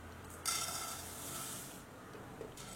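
Oats dry roasting in a pan over a low flame give off a steady soft sizzle and rustle, with a brief brighter burst of stirring scrape, fairly quiet and close.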